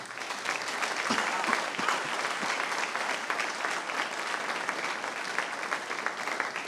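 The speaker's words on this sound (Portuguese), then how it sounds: "E nós vamos dar nossa melhor salva de palmas ao Senhor." A church congregation at a Quadrangular late-night service gives the Lord a long, steady round of applause. The dense clapping stays even and continuous from a room-filling crowd.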